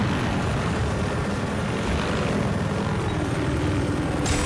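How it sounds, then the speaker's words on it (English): Helicopter rotor and engine drone from the Battlefield Hardline game on the Downtown map, a steady dense low rumble with broadband hiss running continuously and fairly loud throughout. "helicopter should be here"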